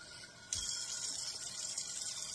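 Hot water gushes into a hot antique Griswold No. 9 cast iron skillet, starting suddenly and continuing as a steady, close, hissing splash.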